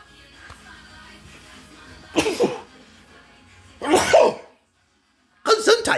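Three loud, abrupt bursts, each sneeze- or cough-like, break out close by from a quiet background, spaced about two seconds apart with a short silence before the last.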